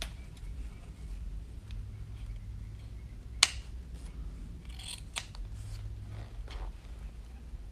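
Scissors snip through ribbon ends while a deco mesh Easter chick wreath is being made, giving one sharp, clear cut and then a fainter second snip over a low steady room hum.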